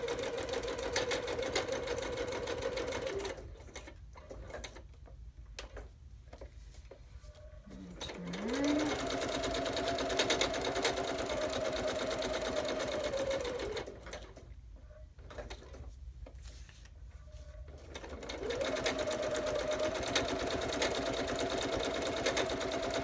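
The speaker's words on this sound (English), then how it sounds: "Nice to have a sewing machine right next to me." A domestic sewing machine running a zigzag stitch, whirring steadily in two long bursts with a pause between them, up close and with no talk over it.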